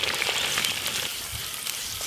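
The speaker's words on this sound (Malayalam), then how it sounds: "കുറച്ച് ഉലുവ നന്നായി പൊട്ടാട്ടാ" Fenugreek seeds splutter in hot oil in a clay pot while cooking country crab soup in a village kitchen, a steady crackling sizzle with scattered sharp pops, close and without talk.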